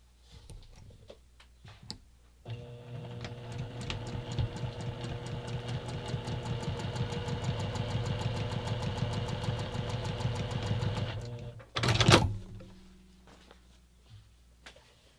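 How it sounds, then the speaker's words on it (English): Quilt fabric segments are stitched on a sewing machine that runs for roughly nine seconds with a rapid, even ticking hum, close and moderately loud, followed by a short burst of handling noise and quiet clicks. "I'm going to take this over to the sewing machine, and I'm going to stitch the lines between segment one and segment two."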